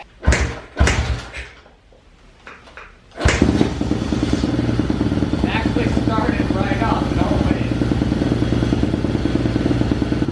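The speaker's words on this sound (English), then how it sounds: "That is very surprising that it started up like third kick." A pit bike that had sat unused for months is kicked over with a few loud, clattering thumps, then catches and settles into a steady, rough, buzzing idle that runs on close by.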